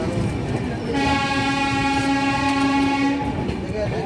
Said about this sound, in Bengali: রাইট টাইমই গাড়ি বর্ধমান থেকে ছাড়লো।